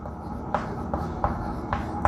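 A hand writes on a board while working a math problem, making about five crisp, evenly spaced strokes and taps over a low background hum.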